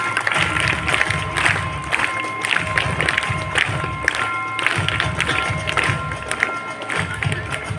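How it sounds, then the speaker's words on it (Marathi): A crowd at a 15 August school ceremony applauds a student for a top rank. The loud, continuous clapping is mixed with cheering and children's shouts, and it goes on without a break. "सर्वांनी या विद्यार्थ्याचं जोरदार टाळ्या वाजवायचे"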